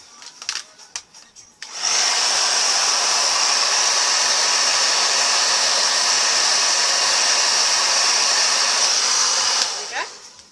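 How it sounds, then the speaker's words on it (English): A handheld hair dryer is aimed over the eyelashes to curl and set them, blowing in a loud, steady, breathy roar for about eight seconds before switching off, with brief handling clicks before and after. "I'm going to run the hairdryer over my lashes to curl them and set them."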